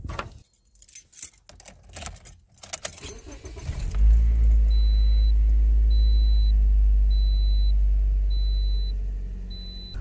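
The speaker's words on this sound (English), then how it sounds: "So it started right up." A Toyota Corolla engine cranks and catches after a cam sensor replacement, then settles into a steady, loud, low idle rumble, with keys jangling and handling noises before it starts.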